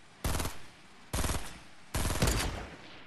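Automatic weapon fire from the Fortnite video game, in three loud, rapid bursts of shots, each lasting about a quarter to half a second, separated by short gaps.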